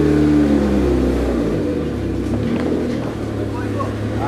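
A hand-made Lamborghini replica car drives with its engine droning loud and steady, a low rumbling hum that holds throughout with slight rises, while a person talks over it.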